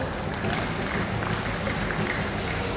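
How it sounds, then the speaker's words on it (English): Sustained applause from a large audience at a university convocation ceremony, a steady dense patter of many hands clapping continuously throughout at moderate loudness. "Please give him another round of applause"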